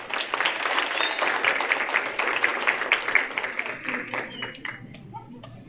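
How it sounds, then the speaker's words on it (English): Applause breaks out from the audience at a pocket pet show in an exhibit hall, clapping that swells and then thins out, with some voices and light chuckles mixed in near the end. "Let's give intermediates a round of applause."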